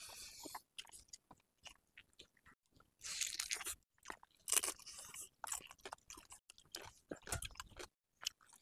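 Close, crisp chewing and crunching of sea crab cooked in a village-style curry, with bursts of biting and crackling shell broken up by brief pauses, no talking.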